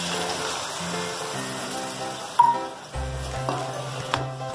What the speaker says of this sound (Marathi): टोमॅटो पेस्ट टाकून घेऊया।